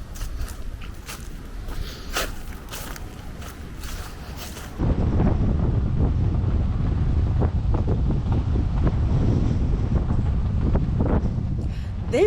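Steady wind on a cold January day buffeting the microphone, loud and continuous, with a rougher, stronger gust taking over partway through.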